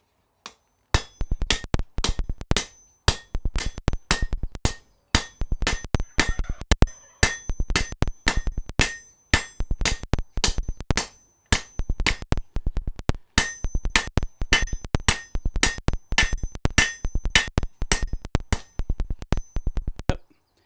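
Hammer blows on hot steel at a smithy anvil as a taper is forged, a long steady run of sharp ringing strikes with bright metallic clinks, close and loud, falling in rapid even rhythm with brief pauses between bursts.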